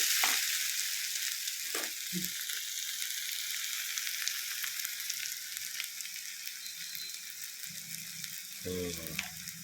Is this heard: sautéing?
yes